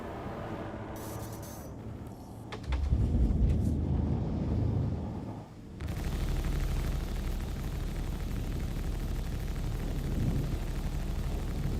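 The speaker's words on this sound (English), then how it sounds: "It's a little windy on Crusader." Wind on the planet Crusader in the Star Citizen video game, a steady broad roaring rush that swells loud for a few seconds, dips briefly, then continues as a constant whooshing bed.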